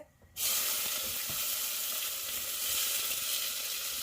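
Cumin seeds and chopped onion hit hot oil, bursting into a loud, steady, close sizzle after a brief quiet start and holding that hiss throughout.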